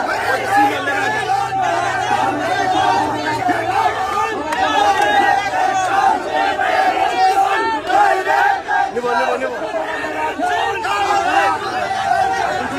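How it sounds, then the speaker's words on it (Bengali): Protest crowd at a human chain in Madhabpur, many voices chanting slogans together in a dense, continuous rhythmic roar that stays loud and close throughout. "স্লোগান দিচ্ছেন"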